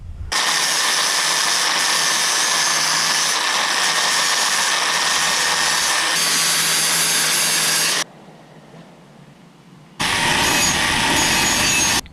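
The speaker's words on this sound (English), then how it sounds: "So this is really just a process of time with the grinder." A grinder reshapes the bead edge of a wheel in a close, loud, continuous abrasive whine that runs for about eight seconds, stops for two, then starts again, with no speech.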